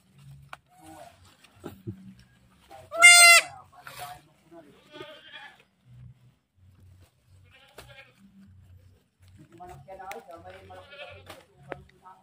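A goat gives one loud, quavering bleat amid sparse background sounds and other farm animal noises, with people talking nearby.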